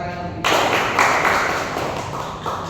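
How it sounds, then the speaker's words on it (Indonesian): A classroom of students breaks into applause during an Indonesian-language micro-teaching lesson: a dense burst of clapping begins abruptly after a brief pause and stays steady and close, with a slight swell near the end. "Boleh kita kasih tepuk tangan untuk kita?"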